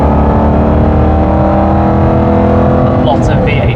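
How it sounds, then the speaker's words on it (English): Aston Martin GT8 V8 engine pulling uphill on a winding road, a loud, sustained deep exhaust drone with rising revs from inside the car, a voice briefly heard near the end. "A lot of V8 sound."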